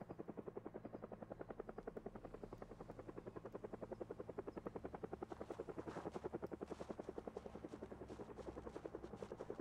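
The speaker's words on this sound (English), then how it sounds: "I can hear a helicopter." A Project Zomboid helicopter chops steadily for several seconds, a rapid, unbroken rotor rhythm that grows slightly fuller and nearer toward the end, with no talk over it.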